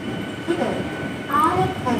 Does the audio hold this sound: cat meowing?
no